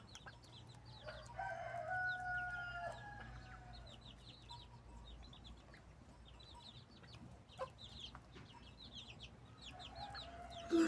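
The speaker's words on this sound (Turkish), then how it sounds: "içinde gördüğünüz gibi iki adet horozumuz var" Two roosters crow and hens cluck at a moderate distance, with scattered bird chirps over a quiet farmyard background.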